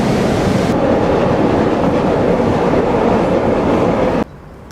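A Chicago CTA commuter train rumbles loudly and steadily along the rails from inside a car, the noise dropping off abruptly near the end.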